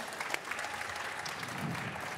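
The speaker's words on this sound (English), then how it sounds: "Round of applause." A crowd at a SEGA / ATLUS game showcase applauds in a dense, steady patter of many hands clapping at once. It stays at an even level throughout the short stretch.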